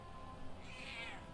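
A pet cat gives one short, faint meow partway through, over a low indoor background hum.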